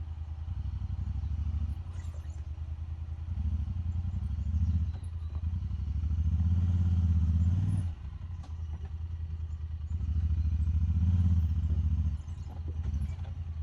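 A 2021 Honda Talon side-by-side on Tusk Terabyte tires coming down a trail in American Fork Canyon, its engine droning heavily in surges that rise and ease off, with rattles and clatter over rough ground, heard from nearby.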